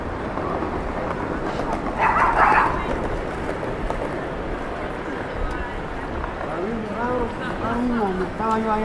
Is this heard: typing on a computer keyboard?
no